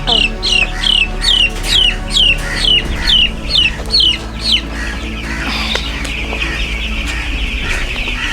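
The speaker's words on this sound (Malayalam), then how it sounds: "ഇതിപ്പോൾ എട്ട് ഒമ്പത് ദിവസമായ കോഴിയാണ് ഇതെല്ലാം" Young broiler chickens, Vencobb birds about eight or nine days old, peep and cluck in a quick repeated series of high calls, then the flock keeps chattering more loosely in the background.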